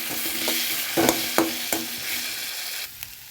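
Vegetables with salt, turmeric and ground lentil paste are sautéed in oil in a pan, a steady sizzle broken by several sharp scrapes and clacks of a stirring spoon.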